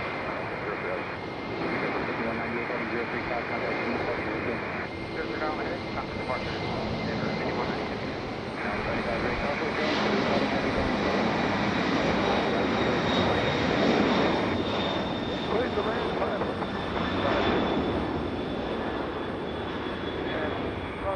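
A FedEx Boeing 767 jet on runway 5 left at Raleigh-Durham airport, a loud continuous engine roar and whine that swells slightly midway, with radio chatter from air traffic control underneath.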